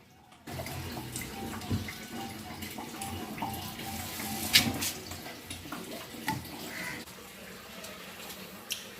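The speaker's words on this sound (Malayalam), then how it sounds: "ഡ്രൈനേജ് പൈപ്പിൽ കൂടി ജലം ധാരധാരായി ഒഴുകുകയാണ് സുഹൃത്തുക്കളെ" Water gushes steadily out of a washing machine's drainage pipe, leaking past the plunger valve on the heavy drain setting: a continuous splashing rush, moderately close, with faint clicks and knocks.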